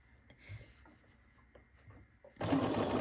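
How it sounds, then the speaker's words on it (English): A sewing machine stitches quilt pieces together, kicking in loudly after a couple of seconds of quiet room sound and running steadily to the end. "I'm gonna sew a few of my bonus quilt things."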